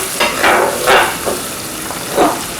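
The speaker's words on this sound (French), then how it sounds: "Dans l'huile, je mets l'oignon et l'ail. Donc, je vais faire sauter ceci quelques instants" Onion and garlic sauté in hot oil, a loud, close, continuous sizzle with bursts of hissing as a utensil stirs and scrapes the pan, with no talking.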